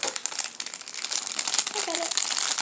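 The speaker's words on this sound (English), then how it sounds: "I opened the package, but it didn't actually open." Plastic packaging on a mystery toy crinkles and crackles continuously as someone tries to tear it open, close and bright, with a voice speaking briefly over the rustling.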